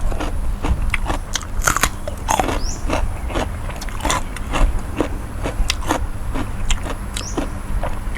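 Crisp blanched vegetables crunched while eating, with rapid sharp crunching bites close up and no voices.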